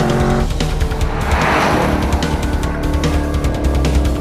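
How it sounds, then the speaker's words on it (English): A Chevrolet Camaro Z28 drives fast along a winding rural road in Alabama, its engine roaring steadily close up with tire and road noise throughout and no voices. "rocking along in the Z28, and what a beast of a car this thing is"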